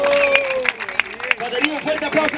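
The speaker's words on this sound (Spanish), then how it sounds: "¡Tiempo! ¡Un fuerte aplauso!" A crowd at the final of a Spanish-language freestyle rap battle applauds and cheers, with scattered sharp claps and shouting voices mixed into a busy, uneven roar.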